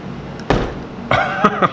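A sharp crack rings out as a stone fishing lure breaks while being drilled, followed by a couple of brief clicking snaps, close and fairly loud.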